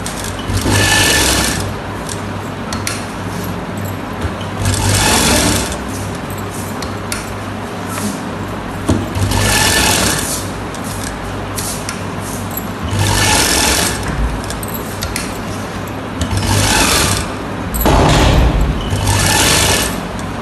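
Sewing machine stitching palazzo trousers, running in repeated bursts of fast, steady needle clatter with a constant motor hum and brief pauses between seams, close and fairly loud.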